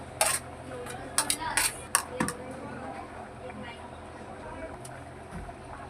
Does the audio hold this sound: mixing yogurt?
yes